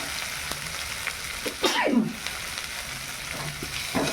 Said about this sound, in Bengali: এই যে দিয়ে এই মশলাটা এবার কষিয়ে নিচ্ছি